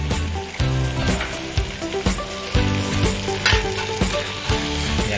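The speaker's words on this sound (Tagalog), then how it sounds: "ilagay natin itong ating gulay. Itong string beans o sitaw para lumambot na siya." String beans tossed into a hot, sizzling pan while cooking kare-kare with tripe, loud steady frying with repeated scraping and stirring clatters, no talk.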